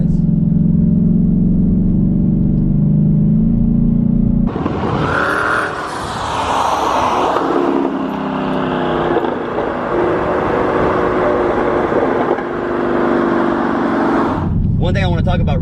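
A 2020 twin-turbo Mustang idles low, then roars loudly into hard acceleration under boost, the sound staying strong for about ten seconds before dropping back.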